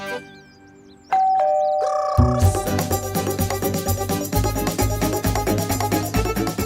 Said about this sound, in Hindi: बाजी घंटी।